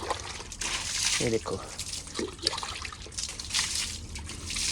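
Water is poured onto a Royal Enfield Bullet motorcycle while it is washed at home, a steady splashing trickle and dribble running for several seconds, with someone speaking briefly over it.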